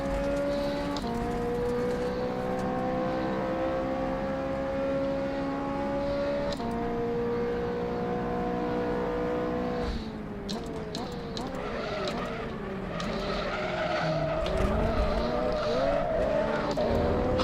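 A race car engine drones steadily at high revs, shifting pitch through gear changes, while tires squeal and skid through corners, with faint talk in the background.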